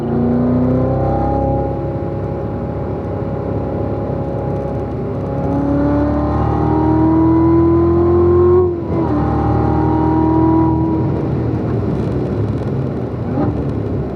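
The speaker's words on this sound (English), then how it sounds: "Start squeezing that power, Mitch. Full throttle." A race car engine at full throttle on a racing circuit, a loud, sustained whine that climbs steadily in pitch, dips briefly around a gear change, then pulls up again with no voices.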